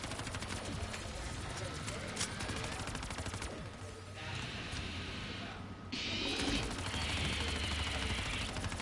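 Zetsubou No Shima zombies-mode gunfire aimed at a boss's mouth: sustained rapid-fire bursts rattle loud and close with brief dips, while players talk over the shooting.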